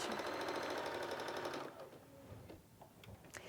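A Bernina 560 sewing machine stitches a blind hem with a fast, steady mechanical whirr for about a second and a half, then stops, leaving quiet handling noises.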